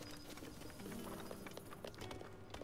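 A horse's hooves clip-clop faintly at a quiet, irregular pace in Zelda: Breath of the Wild, with soft scattered game ambience around them.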